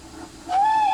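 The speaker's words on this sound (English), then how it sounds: "The whistle was heard again," A steam train whistle, a single short tonal hoot that rises in with a hiss of steam and holds briefly, fairly clear over a quiet background.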